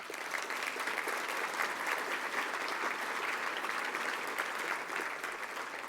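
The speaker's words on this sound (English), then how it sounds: "please hold your applause" An audience at an Economic Club of Canada event applauding, a steady, even wash of many hands clapping throughout, with no voices over it.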